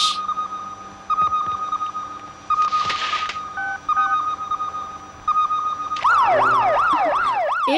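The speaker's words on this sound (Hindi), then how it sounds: "ये फायर ब्रिगेड की आवाज" Electronic beeping tones sound in short bursts, then a loud fire engine siren starts wailing up and down rapidly, close by, in an action movie.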